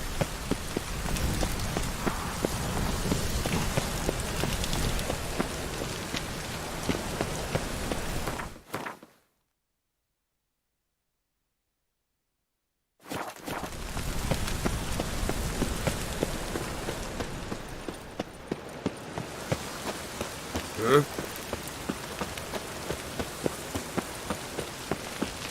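Steady rain pattering on a surface in The Witcher 3 video game, dense and even, cut by a few seconds of total silence before the downpour resumes.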